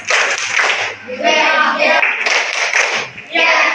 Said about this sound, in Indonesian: mari kita tepuk semangat lagi bersama-sama